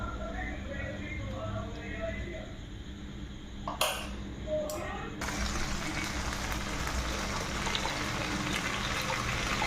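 Water is strained off homemade butter in a kitchen, a steady close pouring trickle with a brief clatter of utensils partway through.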